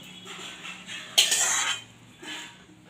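Fried mustard seeds and curry leaves tipped from a pan into semolina batter, heard as a short metallic clatter and brief rush, then a fainter scrape of utensils. No talking.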